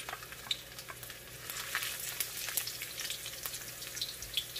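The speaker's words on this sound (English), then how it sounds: "So now we're going to saute the garlic" Garlic sautés in hot cooking oil, making a steady close sizzle with small pops and crackles throughout and no talking.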